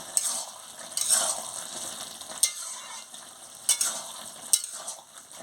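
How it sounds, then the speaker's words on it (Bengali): A spoon stirs a raw pumpkin, potato and shrimp chorchori with roasted cumin frying in a pan. Several sharp scraping strokes come at irregular intervals over a steady, close sizzle. "দিয়ে ভালো করে নাড়িয়ে নিচ্ছি"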